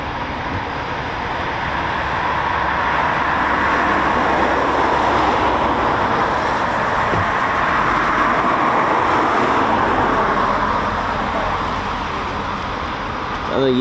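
Steady, loud broadband roar of an RAF Eurofighter Typhoon FGR4 jet engine at RAF Coningsby's QRA station, sustained for the whole stretch with only slight swells and no break.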